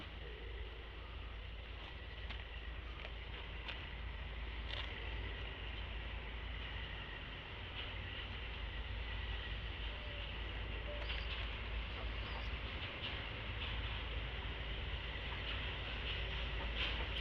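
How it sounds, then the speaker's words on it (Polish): A narrow-gauge railway train rumbles past at a distance, a steady low continuous roll with faint clanks and rattles over about seventeen seconds, with no voices. "Właśnie leci pociąg."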